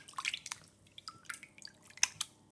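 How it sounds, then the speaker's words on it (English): Raw chicken pieces washed by hand in lukewarm water for seekh kebabs: soft, irregular splashes, drips and squishes, close by and fairly quiet, with no talking. "Now we're going to wash our chicken pieces in lukewarm water."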